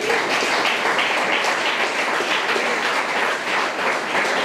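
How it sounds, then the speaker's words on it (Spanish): A church congregation applauds during a sermon, a sustained, loud wash of many hands clapping together without pause. "Dale un aplauso al Señor."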